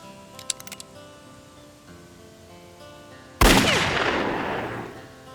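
A single loud gunshot from an old revolver in an action movie cracks out sharply after a quiet stretch with faint clicks, its echo decaying slowly over the following seconds.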